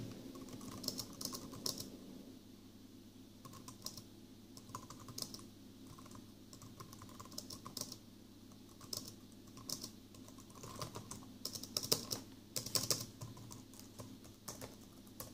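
Rapid keystrokes clatter on a five-year-old Logitech G510 keyboard, a continuous quiet patter of clicks in bursts with brief pauses, close up and alone against a low hum.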